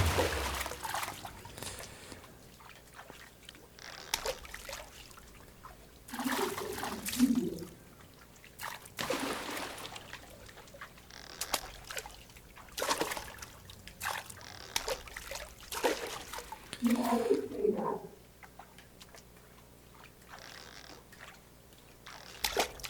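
Rising water in Depression The Video Game flows and trickles steadily, with soft sloshing swells and gentle splashes recurring in waves over a low ambient bed.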